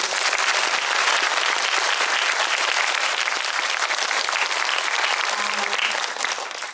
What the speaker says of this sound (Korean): 큰 박수를 좀 부탁드립니다.